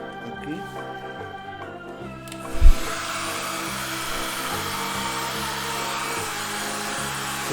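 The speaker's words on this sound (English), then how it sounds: "So I'm using dryer over here." A hair dryer blowing steadily over a pencil drawing on normal paper, a loud continuous whooshing hum after a brief thump, running close and unbroken for several seconds.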